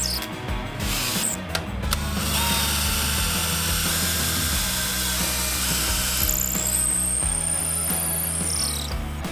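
A power drill bores steadily into antler, a continuous grinding whine with a rumbling low end that holds for the full stretch, close and fairly loud, with no talking.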